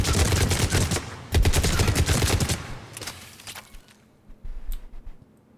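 Cerberus Harrier assault rifle from Mass Effect 3 firing full-auto at point-blank range: loud, dense rattling bursts of gunfire, one sustained burst then another, tapering into a few quieter shots and silence.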